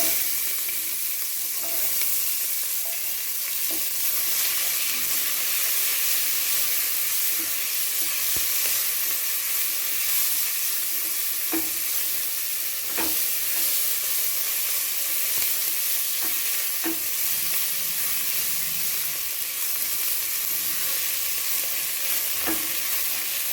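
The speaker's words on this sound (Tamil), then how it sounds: "வெங்காயம் போட்டுக்கணும்." Onions fry in a pan for sambar rice, giving a steady, close sizzle and hiss with occasional scraping stir clicks throughout, no voices.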